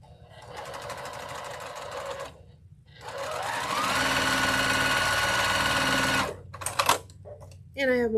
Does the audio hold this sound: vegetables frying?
no